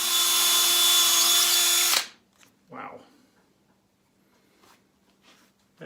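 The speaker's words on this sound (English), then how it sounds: "That is hard to drill into." A power drill bores into an old, tight-grained cedar plank, whining loud and steady for about two seconds before stopping abruptly, leaving near silence with a few faint handling sounds.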